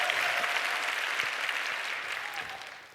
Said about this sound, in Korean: 오늘 우리에게 말씀을 전해주실 우리 유기성 목사님 나오실 때 우리 힘찬 박수로 또 우리 환영하도록 하겠습니다